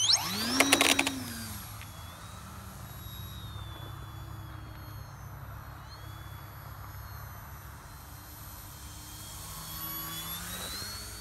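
A Twisted Hobbys Veloxity RC jet with a V-Basic Neo fan flies on a calm fall evening, its steady whining rush heard at a distance after a brief louder pass at the start.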